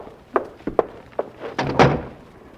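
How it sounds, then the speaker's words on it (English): A door is pushed shut in an old film scene, with several light knocks and bumps followed by a louder closing thud, all heard up close. "Close that door, Grace."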